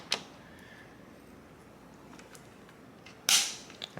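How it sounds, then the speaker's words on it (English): A single sharp click comes from a torque wrench reaching its set torque while a rifle scope is mounted on an AR-15. It stands out close and crisp against near silence, with a faint tick just before and a small knock after. "All right, once you hear that click,"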